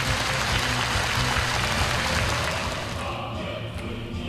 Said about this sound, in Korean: 관람자들은 열광적인 박수를 돋쳐 올렸습니다